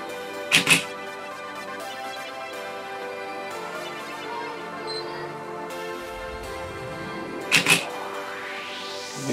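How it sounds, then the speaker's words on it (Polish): A Nikon D90 camera shutter fires in quick bursts on an interval timer, two groups of sharp mechanical clicks about seven seconds apart over a steady background hum. "to on tak odczeka 10 sekund i zacznie robić tą serię zdjęć, którą zaprogramowaliśmy, czyli co 7 sekund 4 zdjęcia"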